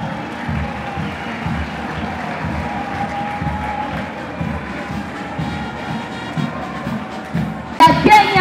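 Crowd at the opening ceremony of the EAC Police games in Kigali applauds the arriving teams, a steady wash of clapping and crowd noise with voices mixed in, swelling louder near the end.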